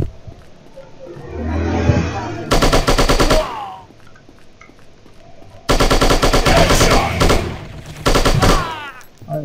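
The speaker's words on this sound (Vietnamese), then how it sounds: "chạy lên ban công bắn xuyên tường mình ấy" Automatic gunfire in the video game Striker, shooting through a wall: a short burst, then two long rapid bursts of close, loud shots separated by quieter gaps.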